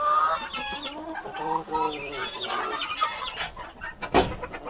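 Chickens cluck and murmur close by inside a coop in winter, with irregular short calls and one sharper squawk near the end.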